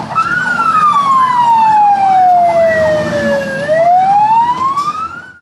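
Fire engine siren in Uzhhorod, a loud wailing tone that sweeps down slowly and then rises again. A faster warbling siren layers over it, with steady traffic rumble underneath and no talk.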